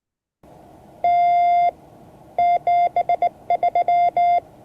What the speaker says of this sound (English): This is how you say goodbye in Morse code.